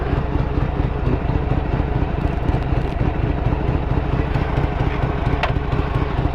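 A Harley-Davidson motorcycle engine runs at a loud, steady, close idle, a continuous throbbing rumble with a faint metallic clatter and no voices.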